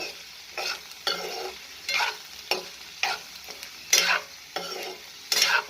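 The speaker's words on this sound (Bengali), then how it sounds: "এটা আমি একটু নাড়াচাড়া করে আবারও একটু আমি ঢাকা দেবো এখন" Onion stalks frying in a pan and stirred in repeated rhythmic strokes, each stroke a loud close scrape and rustle over a quieter sizzle.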